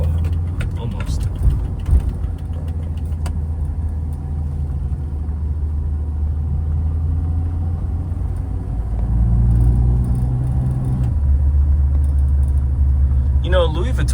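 Road traffic passing on a Sunday evening makes a steady low engine rumble that swells as a vehicle goes by near the middle, with someone talking over it throughout.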